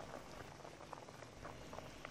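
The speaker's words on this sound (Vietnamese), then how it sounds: "Đây là cái nồi thịt mình kho được 1 tiếng rưỡi rồi" A pot of Vietnamese caramelized braised pork, thịt kho tàu made without coconut water, simmers after an hour and a half of cooking, giving off steady, soft bubbling with scattered small pops, faint and continuous.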